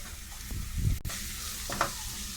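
Sprouted val beans with onion, tomato, garam masala, red masala and coriander get stirred in a pan, a close sizzling frying hiss with scraping spoon strokes and a sharp clack near the middle.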